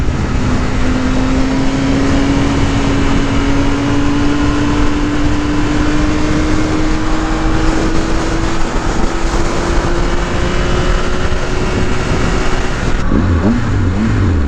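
A 2018 Triumph Speed Triple 1050 S motorcycle on a demo ride, its engine and exhaust droning loud and continuous with a slowly rising pitch under steady wind rush, then a shift in tone near the end.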